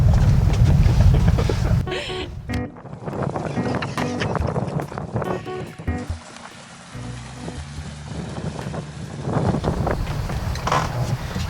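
Gusting wind roars across a bay while a sailboat is being anchored, a steady rushing blow with flapping and rattling rigging, sloshing water and occasional voices in the background.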